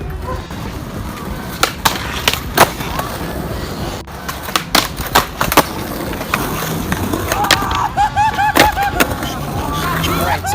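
Skateboard rolling on pavement by a rider in Axion shoes, with repeated sharp board slaps and clacks from tricks, gritty wheel rumble between them, and faint voices in the background.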